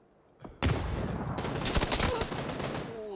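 Sudden, dense bursts of rapid automatic gunfire in a shooter video game, starting abruptly after a short lead-in and continuing loud and near for the rest of the clip.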